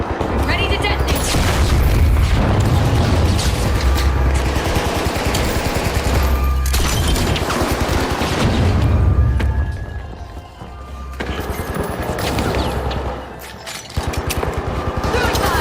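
Explosive detonations and bursts of gunfire in the arena shooter THE FINALS, a loud continuous barrage of booms and rapid shots, with a brief lull before the firing resumes.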